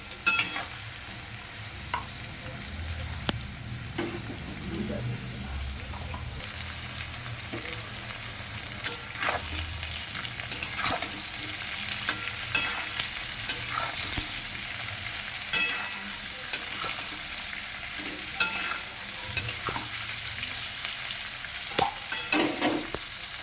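Potatoes and onion frying in a pan with ribbed gourd and poppy seed to follow, a steady sizzle under repeated scraping stirs that come in short bursts throughout, with no talk.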